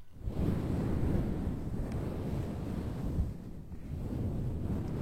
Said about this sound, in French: Je vais te laisser avec les vagues de l'océan.